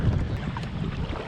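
Heavy wind roars across a lake during a kayak trip, a steady, dense rush of buffeting noise in a brief stretch with no pauses.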